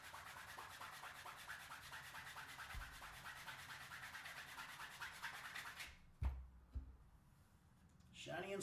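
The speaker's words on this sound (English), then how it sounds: "give it a nice rub with the canvas" A canvas cloth rubbed briskly back and forth along a coated leather edge, giving a fast, regular scratchy swishing that runs for several seconds, then a few knocks and a quieter pause.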